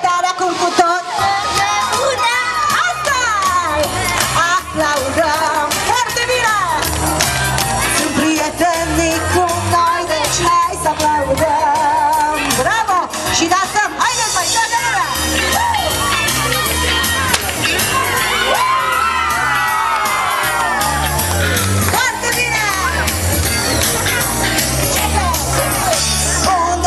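A young audience of children at a live stage show shouts and cheers in a loud, continuous roar, with a performer's amplified voice and music mixed through it throughout.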